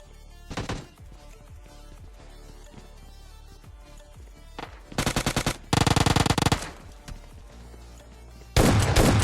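Gunfire in the PUBG Lite video game at a factory landing: a brief burst early on, scattered single shots, then loud rapid automatic bursts in the second half, with sharp close cracks and no talk.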